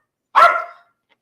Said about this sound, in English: These dogs be going crazy, man.